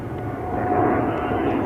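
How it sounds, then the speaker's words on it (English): A Turkish Airlines Boeing 777-3F2 departs JFK on runway 13 right, its jet engines giving a loud, steady, close roar throughout. "That would be Turkish Airlines for departing JFK"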